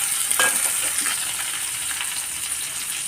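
Tomatoes and drumsticks sauté in a pan of oil for a prawn curry with a steady, close crackling sizzle, and a few stirring scrapes come near the start.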